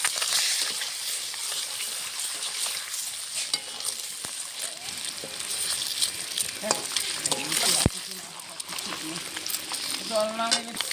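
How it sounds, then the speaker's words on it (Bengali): Boiled eggs seasoned with salt and turmeric sizzle and spit in hot oil, bright crackling throughout, with scraping stirs, a loud clatter, and brief speech near the end. "তেলটা গরম হয়ে গেছে, সিদ্ধ করা ডিমটা তেলে ছেড়ে দেবো।"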